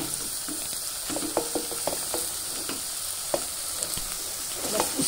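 A ground jackfruit vegetable paste sizzles steadily in a pan, a constant frying hiss with scattered light pops and stirring taps, moderately close and without talk.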